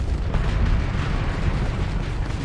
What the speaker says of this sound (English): We're going to fire missiles